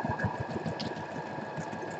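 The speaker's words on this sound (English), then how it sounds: "I'm just stitching around the whole outside edge of this." A sewing machine runs steadily close by, its motor humming with a fast, even mechanical chatter as it stitches around the outside edge of a paper collage tag.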